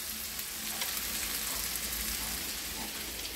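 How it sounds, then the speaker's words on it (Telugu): Raw banana pieces fry in a pan with a constant, dense crackling sizzle, close and steady for the whole stretch and free of speech. "అరటికాయలు వేగిని, అరటికాయ ముక్కలు వేగిని"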